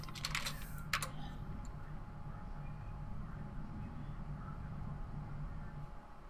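Keys clatter on a computer keyboard in a brief burst near the start, then only a low steady hum fills the rest.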